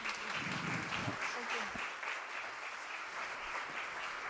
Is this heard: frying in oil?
no